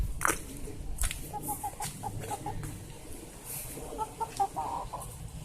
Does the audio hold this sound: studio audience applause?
no